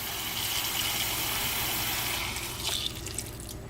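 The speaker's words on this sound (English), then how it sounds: "And we're just adding some water." Water poured into a pot holding turkey neck and tail with celery tops for gravy stock, a steady continuous splashing pour that tapers off near the end.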